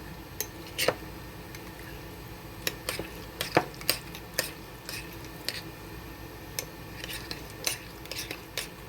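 A spoon stirs a mixture in a bowl at a fish fry, with scattered sharp clinks and scrapes of metal against the bowl over a quiet background.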